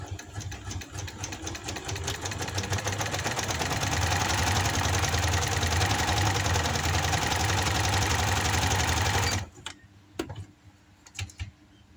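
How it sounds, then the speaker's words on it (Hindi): An electric sewing machine stitches fabric with buckram, a loud, fast, steady mechanical whir and rattle that runs for about nine seconds, then stops abruptly, leaving quiet with a few faint clicks. "अब हम इसकी सिलाई लगाएंगे।"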